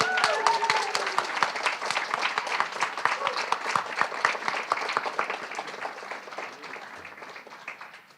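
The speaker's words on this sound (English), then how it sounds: "All right, let's give our students a round of applause." Audience applauding students at the Arizona Poetry Out Loud state finals: dense, steady clapping from a crowd filling the hall, slowly thinning toward the end.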